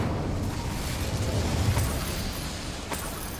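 The Incendio fire spell cast in Hogwarts Legacy, a roaring, crackling burst of flame that holds steady and loud for a few seconds with faint pops scattered through it.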